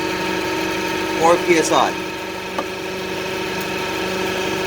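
A Toyota engine idling with a steady, even hum and a faint whine, loud and close, while someone speaks briefly over it.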